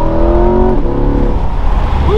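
A 2022 Chevrolet Corvette C8 Stingray Z51 2LT accelerates hard to overtake another car, the engine note climbing in a rising whine over a steady road rumble.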